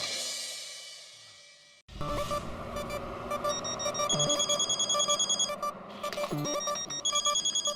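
A brief cut, then a repeated electronic telephone ring pulsing in regular bursts, loud and close, with no talking.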